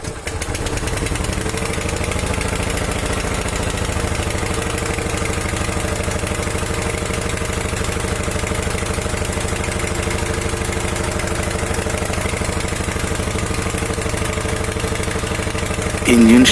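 A China Handa water pump engine runs at a steady idle, a loud, continuous mechanical drone with a constant rhythmic chug that holds unchanged for the whole stretch.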